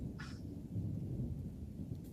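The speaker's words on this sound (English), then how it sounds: "It's raining hard in the back right now." Heavy rain falls with thunder in Southern California, a dense low rumble and steady wash of rainfall holding at an even level throughout, with no voices.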